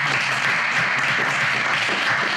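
An audience at a festival applauds its association's patron with continuous, dense clapping that holds at an even, fairly loud level throughout, with no voices standing out.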